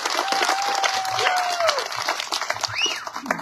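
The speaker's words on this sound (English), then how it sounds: "How about a big round of applause for her?" Applause and cheering from a crowd at a political rally in a hall, with a loud, dense clapping wash, a sharp whistle rising over it and scattered shouting voices throughout.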